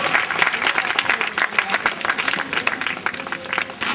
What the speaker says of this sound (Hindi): करतल ध्वनियों में कंजूसी नहीं होनी चाहिए।